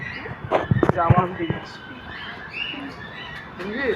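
Munias and Java finches chirp in a zoo aviary, with short bursts of bird calls over background chatter and crowd noise, and people talking nearby throughout.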